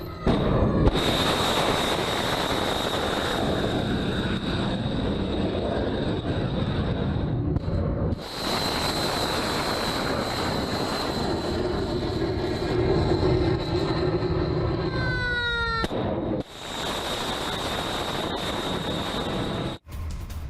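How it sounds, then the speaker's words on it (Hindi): Missile launches from a HIMARS rocket system in US military footage, heard as a continuous loud roaring blast with a whistling tone, briefly interrupted twice and then resuming, with no talk. "अमेरिका ने किया हाइमार्स मिसाइल का इस्तेमाल"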